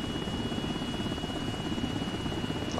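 An aircraft in a military video game drones steadily with a dense, continuous rotor-like thrum and a constant high whine, loud and unbroken with no voices.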